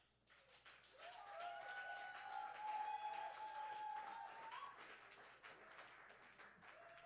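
An audience applauds at a Berkeley poetry slam, a sustained wash of clapping and cheering from a crowd, rising then slowly easing, with a held whoop or tone riding above it.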